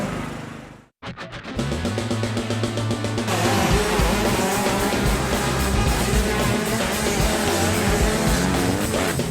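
Motorcycles roar off the start of a final race, a brief quiet gap followed by a dense, loud wash of engine noise with overlapping revving tones as the pack pulls away.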